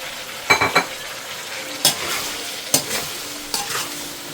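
Four large cubed tomatoes drop into a hot frying pan, then a utensil stirs them in several distinct scraping strokes over a steady sizzle, close and fairly loud with no talking.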